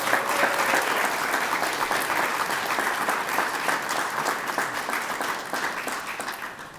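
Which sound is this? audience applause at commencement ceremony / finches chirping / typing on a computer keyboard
audience applause at commencement ceremony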